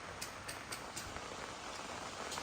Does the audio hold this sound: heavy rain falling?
yes